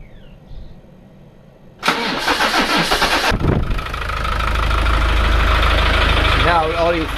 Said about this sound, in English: what I'm just going to do is do a quick start up